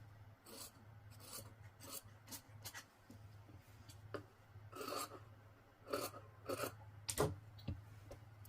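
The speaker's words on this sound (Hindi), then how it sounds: "अब मैं इसका access fabric काटूंगी close to the सीम, लेकिन मुझे सिलाई को नहीं काटना है।" Scissors trim excess fabric from a dupatta close to a stitched seam, producing a quiet, uneven run of short crisp snips and rasping cuts, with pauses between bursts and no talking.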